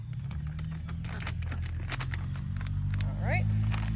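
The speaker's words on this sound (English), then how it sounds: "because they hear the plastic bag." Crisp plastic bag rustling in short crackly bursts outdoors near ducks, over a steady low hum, with a brief bird call near the end.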